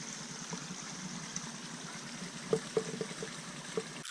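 Water trickles and flows at a wet creek crossing on the Ouachita Trail near Story Creek. It's a quiet, steady wash, and a few sharp taps stand out in the second half.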